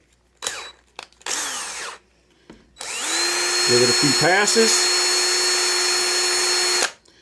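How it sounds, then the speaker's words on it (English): A power drill whirs steadily for several seconds after a few short bursts, cleaning a corroded clutch part of a Stihl trimmer, loud and close, with a brief voice speaking over it. "If it's really corroded, I used good old drill."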